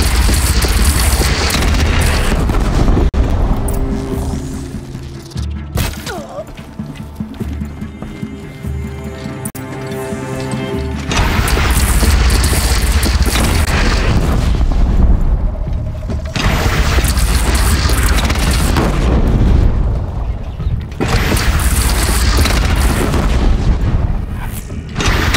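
Cannon blasts and explosions in Horizon Zero Dawn come as repeated heavy booms during a battle with a bandit clan, mixed with galloping horse hooves and whinnies, loud and close throughout.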